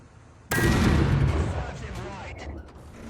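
A single heavy tank cannon blast from an IS-2 in the video game War Thunder erupts suddenly and booms loudly, its rumble decaying over a few seconds with faint mechanical clanks afterward.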